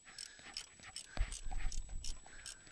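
A socket tool loosens a part during an oil change on a Ram EcoDiesel truck, making a string of quiet ratcheting clicks at a quick, fairly even pace, with a low thump partway through.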